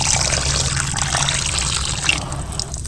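Flour dough is rinsed and squeezed by hand in water, giving a steady close splashing and trickling that runs unbroken for a few seconds with no talking.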